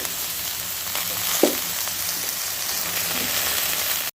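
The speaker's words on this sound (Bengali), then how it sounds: "মশলাগুলোর সাথে সবজিগুলো আমি ভালো করে কষিয়ে নিয়েছি" Vegetables with spinach, eggplant and spices frying in a pan for a vegetarian curry, giving a steady, dense, close sizzle with a single stirring knock, no talking, then a sudden cut to silence.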